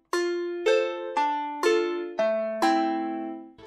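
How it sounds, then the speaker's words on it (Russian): Hard gusli from a Kontakt sample library, a Russian psaltery patch with a sharper attack: six bright plucked notes struck at a steady pace, each ringing out and overlapping the next, heard alone. "Вот такие вот хард-гусли,"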